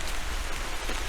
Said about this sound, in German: Hey, das ist ja hier ein schöner Regen, ein sehr spiritueller Regen.